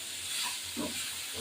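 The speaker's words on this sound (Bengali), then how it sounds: "এবার জল দিয়ে দেবো।" Water hitting a hot pan of fried hilsa curry base, giving a steady hiss and steamy sizzle throughout, with a brief bubbling burst near the middle; no voices.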